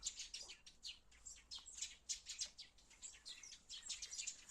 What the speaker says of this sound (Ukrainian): я пташки так співають гарно